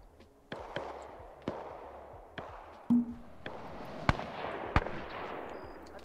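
Artillery explosions in the Iron Front video game: a series of sharp, distant booms and cracks spaced a second or so apart, with rumbling tails and one heavier thud, over low background ambience and no talk.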